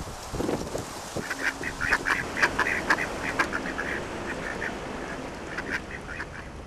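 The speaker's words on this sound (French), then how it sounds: "les marais et les canards" Several ducks quack in scattered bursts in a marsh over a steady wash of outdoor background noise, some calls close together, others spaced apart.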